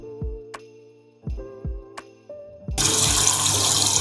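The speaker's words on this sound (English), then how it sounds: "Next we're gonna drop these in some boiling salted water for around 3 minutes," Green beans are dropped into a pot of boiling salted water in a restaurant kitchen: a few sharp clinks and knocks, then a sudden loud, steady rush of bubbling water.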